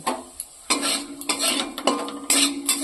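Egg and soybean curry being stirred and fried in a pan, with a few distinct bursts of spatula scraping and clattering against the metal over a quiet sizzle.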